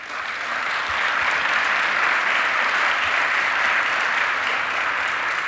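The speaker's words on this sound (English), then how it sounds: "So give them a big round of applause." Sustained audience applause at a vertical flight forum awards ceremony honouring student scholarship winners, a dense steady wash of many hands clapping at even loudness throughout, with no talk over it.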